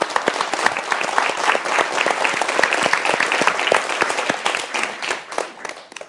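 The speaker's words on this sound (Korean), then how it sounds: "박수 한번 주세요" Audience at a Korean lecture by Kim Chang-ok breaks into dense, sustained applause, many hands clapping loudly and steadily for about six seconds with no talk over it.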